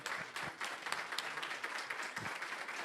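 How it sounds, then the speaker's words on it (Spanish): Applause from a lecture audience for a guest speaker, a steady wash of many hands clapping for about three seconds at moderate loudness, without speech over it. "Muchísimas gracias a Pablo, un fuerte aplauso para él."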